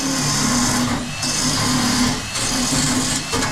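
A power tool scours rust off a Torana body panel with a steady, close, high-pitched whirring grind that dips briefly a few times as the tool shifts across the metal.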